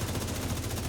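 Rapid automatic gunfire from The Division 2 video game, a short dense burst of shots rattling continuously at moderate level with no talking.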